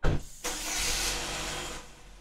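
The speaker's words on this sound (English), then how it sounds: "Sorry if you guys hear a car." A car passes nearby, a steady whooshing roar rising abruptly after a brief thump and holding, then easing off.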